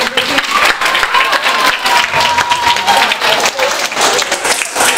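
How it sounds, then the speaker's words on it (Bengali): Students and audience at Douglas Memorial Higher Secondary School in Barrackpore give a student loud, close applause, a dense, continuous burst of clapping with a faint crowd murmur underneath. "সাজবাতির জন্য একটা হাততালি আমি করব।"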